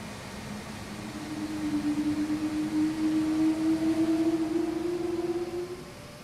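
Airbus A220 jet engines in a Synaptic/iniBuilds flight simulator, on a Delta flight, give a steady broadband roar with a whining tone that swells and slowly rises in pitch, continuous and fairly loud with no talking.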